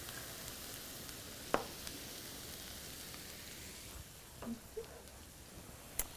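Zucchini stir-frying in a hot pan, a steady soft sizzle running throughout with a few sharp clinks and scrapes of stirring.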